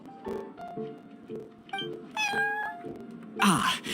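A cat meows repeatedly in the Cat's Tail tavern in the Genshin Impact video game: a run of short, clear meows up close, ending in a louder, drawn-out cry.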